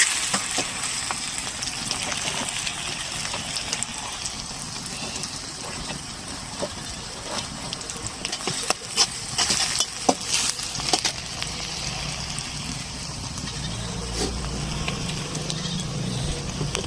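Bay leaves, cardamom and whole spices sizzle in hot oil, giving a steady, fairly quiet frying hiss with occasional brief crackles.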